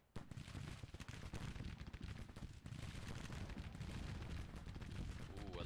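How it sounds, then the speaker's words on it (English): In a battle video game, artillery fire roars as a thick, unbroken wall of cannon blasts and crackling gunfire. It stays loud and heavy from start to finish after a quiet first instant. "Ooh, I love this look of the artillery just kicking it up a notch."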